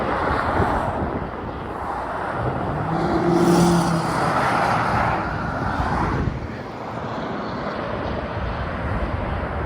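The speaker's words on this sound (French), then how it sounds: "petit convoi de Porsche avec une Corvette C7 qui s'est incrustée derrière" A convoy of Porsches followed by a Corvette C7 Z06 driving past on the A28 road during Le Mans Classic, a swelling then fading roar of engines heard from the roadside through gusty wind noise.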